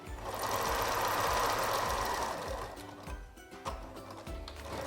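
A sewing machine zigzag stitches around the waistband casing of an upcycled woollen jumper, running steadily at close range and then slowing into shorter bursts with brief pauses.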